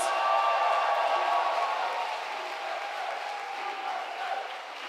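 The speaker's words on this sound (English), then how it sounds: "please have a big round of applause for all the finalists" A debate audience at the WUDC world championship finals in Panama City gives the finalists sustained applause, a dense wash of clapping with faint cheering that stays steady and slowly tapers.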